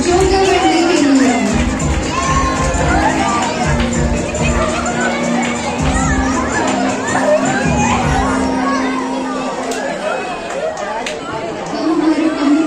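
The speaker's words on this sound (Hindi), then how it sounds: "जोरदार तालियां बजा देंगे" An audience at a community prize distribution and closing ceremony cheers loudly and continuously, with children shouting and voices chattering throughout.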